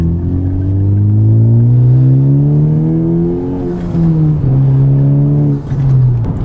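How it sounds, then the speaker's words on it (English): A loud Honda Civic Type R exhaust revs steadily upward in a deep, droning rumble, dips briefly, then holds a throaty idle-like tone close by. "like the sound of the exhaust when it's loud"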